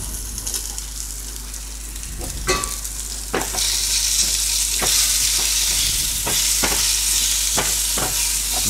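Mushrooms fry in garlic butter in a pan, a steady close sizzle that grows louder partway through, broken by sharp scrapes and clatters as they are stirred.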